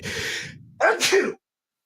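A single close, loud sneeze, with a short breathy intake followed by a sharp explosive burst, then silence.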